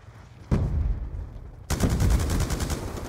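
Gunfire in the Black Ops 2 video game: a single loud shot cracks out, then after a short pause a rapid automatic burst of evenly spaced shots follows, close and punchy with no talking.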